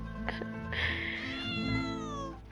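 A cat in the Genshin Impact video game meows clearly and up close, one drawn-out, rising-then-falling meow heard alone over a low background hum.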